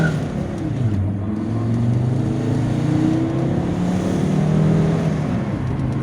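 A 2.4-liter multi-jet 200-horsepower diesel engine in an Alfa Romeo Brera revs as the car drives, a steady low drone whose pitch climbs and falls in smooth sweeps, loud and close with no talk.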